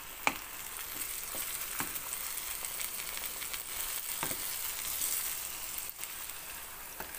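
Eggplants frying in a pan for imam bayıldı, a steady soft sizzle with scattered sharp pops and crackles, heard alone and fairly quiet.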